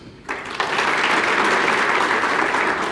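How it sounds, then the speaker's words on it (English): Loud, sustained applause from the audience at the 17th annual general meeting of the Ethiopian Society of Orthopedics and Traumatology, bursting in after a brief quiet moment and swelling into a dense, steady roar of clapping hands. "Please give a big, loud round of applause for yourself."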